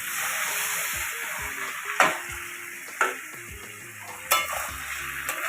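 Stems of greens being stirred with mustard paste in a pan during Bengali mustard patori cooking, a steady sizzle beneath scraping spoon strokes, with several sharper clacks of utensil against metal.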